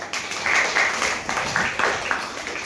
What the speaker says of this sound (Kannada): ದೊಡ್ಡ ಚಪ್ಪಾಳೆಯನ್ನು ಹೊಡೆಯಿದ್ದಾರೆ